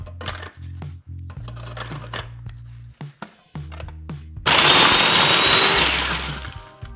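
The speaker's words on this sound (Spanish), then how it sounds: "Las galletas las puedes triturar en la licuadora o en el procesador." Some light clicks and taps, then a loud food processor roars for a few seconds, grinding and crushing halved cookies for a lemon pie crust.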